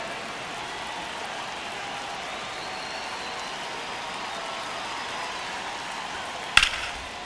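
Steady crowd murmur fills a baseball stadium during a tense one-run ninth inning, a broad, constant wash of spectators held at an even level, with a brief sharp knock near the end.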